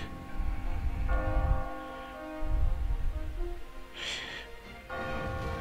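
A bell from the Catherine video game tolls in sustained ringing tones, fading and returning between brief breathy noises, heard at moderate level without clear speech.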